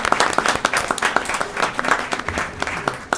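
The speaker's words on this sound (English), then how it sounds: "let's give Miguel as well a round of applause" Applause at a Union County Freeholder meeting in Linden, dense overlapping hand claps from a room of people, steady and fairly loud for a few seconds without talk.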